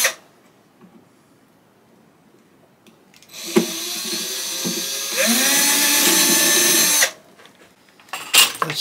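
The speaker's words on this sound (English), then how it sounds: "now we will just go through these holes and drill starter holes like so" A power drill bores starter holes, whirring steadily for a few seconds with a rising pitch midway before cutting off, with no talk over it.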